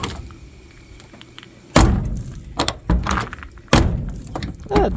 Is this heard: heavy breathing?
no